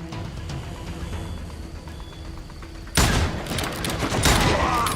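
A burst of rapid gunfire breaks out about halfway through, loud and dense after a quieter stretch, from an Old West shootout in the video game Call of Juarez: Gunslinger.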